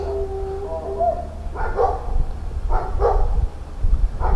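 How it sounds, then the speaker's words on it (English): Dogs bark a few times at a distance beside the River Alyn, short separate woofs over a low steady rumble of outdoor background noise. "The dogs don't want me to go any further"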